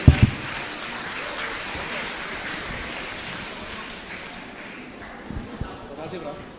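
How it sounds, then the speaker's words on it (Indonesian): Audience applause at a university social and political sciences faculty forum in Indonesia, a steady wash of clapping that holds evenly for several seconds at moderate loudness and thins slightly near the end. "boleh kita berikan tepuk tangan sekali lagi untuk pembicara para panelis"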